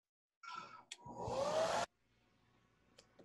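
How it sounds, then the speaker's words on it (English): A hair dryer blows in a steady rush for about a second and a half during a stage play, cutting off abruptly with a short thump and quiet room noise after. "can you turn off that blow dryer?"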